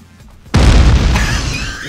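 A loud, close RPG blast in a video game, a sudden boom after a brief quiet lead-in that rolls on into a dense, rumbling tail for over a second.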